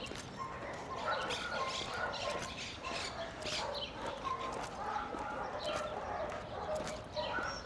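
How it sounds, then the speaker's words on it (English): Dogs bark repeatedly in the distance over a steady outdoor background hum, with sharp yips scattered throughout. "I know you can hear dogs"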